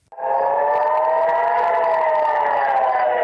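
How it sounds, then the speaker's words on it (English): Air raid sirens wail across northern Israel during Hezbollah rocket barrages, a loud, steady, continuous tone that cuts in abruptly and holds without pause. "Hezbollah rocket barrages triggered sirens across northern Israel overnight and early Sunday morning."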